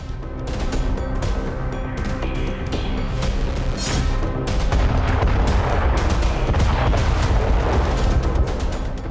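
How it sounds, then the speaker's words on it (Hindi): A massive FOAB bomb blast in Ukraine roars on and on, loud and close, with deep rumbling and cracking bursts layered through a dense wall of noise. "एक विनाशक ब्लास्ट और इसके बाद बारूद से सना धुआं आसमान की तरफ उठता दिखाई दिया।"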